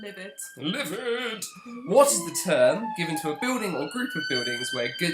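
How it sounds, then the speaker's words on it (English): A wailing police siren rises and falls steadily in the background while a person speaks continuously over it. "Apologies for the sirens."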